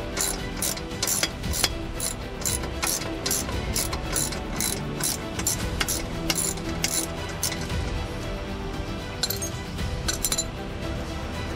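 A ratchet works a threaded bolt out of a RockProof boat pump housing, giving steady close clicking over a constant mechanical background, with a few metallic clinks near the end.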